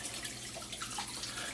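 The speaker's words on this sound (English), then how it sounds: "Don't mind me, I'm just warming up some water." Steady broadband rush of water running from a kitchen tap, being warmed for mixing calzone dough with yeast; continuous, fairly close and even in level, with no talking.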